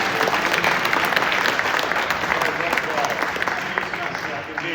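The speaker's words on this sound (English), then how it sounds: "Round of applause for a fantastic second round." Audience applause at a Wilder vs Chisora undercard boxing press conference, a steady wash of clapping that fades slightly toward the end, with some speech mixed in.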